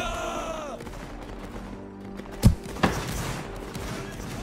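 Gunfire in a multiplayer video game battle with Austria, Russia and Bourbon Spain against France, two sharp close shots cracking over a busy background of battle noise, with a person talking.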